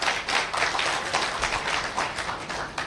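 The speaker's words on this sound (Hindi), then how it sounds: "तो तालियां तो बनती है।" Seminar audience at a business event claps together, a dense, even patter of many hands held at moderate volume for a few seconds with no talking.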